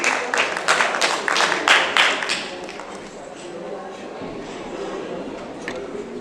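Scattered audience clapping at a conference held at the Radisson Collection in Srinagar, Kashmir, a burst of claps over the first seconds that thins into a murmuring room.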